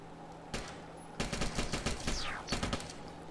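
Gunfire in a first-person shooter video game: a single shot, then rapid bursts of automatic fire in quick clusters, crisp and fairly loud with no talking.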